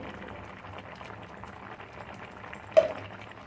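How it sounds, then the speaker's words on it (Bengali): A pot of ridge gourd shukto simmers and bubbles quietly, a soft, low boiling burble, with a single brief clink or splash near the end. "দিয়ে আবার আমি এটাকে 2 মিনিট ফুটতে দেবো।"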